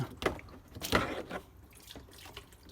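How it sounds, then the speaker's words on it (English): Coolant drains from a 2005 Dodge Ram 1500 radiator hose into a bucket, making quiet, irregular trickles and a few splashy drips close by. "Let the coolant that's in there flow out."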